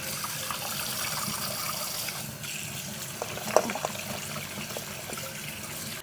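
Tap water runs steadily over goat meat being rinsed, a continuous close splashing stream with a few small knocks and drips near the middle.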